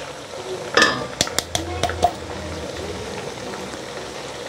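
Ground masala being stirred into chicken frying in a pot for Delhi-style nihari, with a few sharp metallic spoon knocks against the pot over a low, steady bubbling sizzle.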